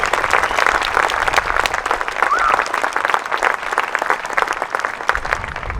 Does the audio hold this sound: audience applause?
yes